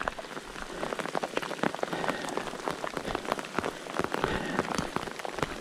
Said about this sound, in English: those are big cold raindrops